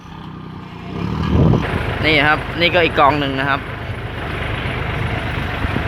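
A farm tractor's engine drones steadily throughout while pushing cow manure into piles, with someone speaking over it close by.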